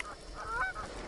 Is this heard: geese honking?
yes